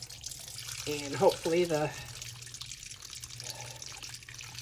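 Warm rendered lard pours into a coffee filter as a soft, trickling liquid stream under a short phrase of speech, with a quiet background hum.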